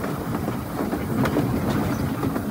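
An old mini train runs along its rails in Wulai, Taiwan, giving a steady, close rumble with a faint clickety-clack of wheels over the track, continuous throughout with no voices.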